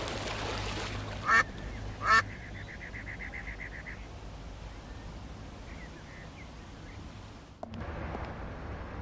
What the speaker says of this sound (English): This noisemaker seems to appeal to the ducks.